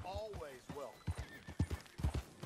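A horse in Red Dead Redemption 2 whinnies twice, then its hooves clip-clop in an uneven, close rhythm under game ambience.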